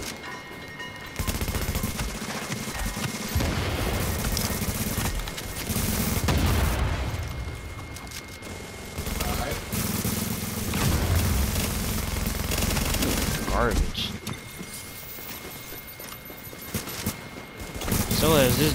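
Gunfire rattles through a Tom Clancy's The Division match in repeated bursts with heavy booms, loud and close, while players talk over much of it.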